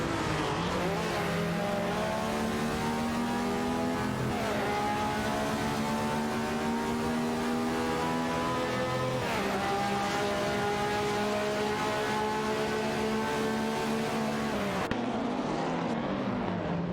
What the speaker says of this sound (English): It looks like Darth Blazer and Sir Ironbot are setting the pace at the front